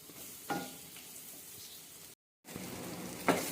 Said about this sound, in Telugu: ఈ పన్నీర్ ముక్కలు వేసి ఇలా కొంచెం మంచిగా ఫ్రై చేసుకోవాలి.